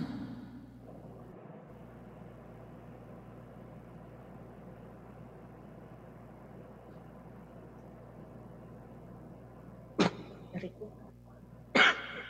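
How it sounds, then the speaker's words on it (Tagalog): Two short, sharp coughs break through at close range near the end, after a stretch of quiet room hum during a birthday livestream. "Ubo talaga ako"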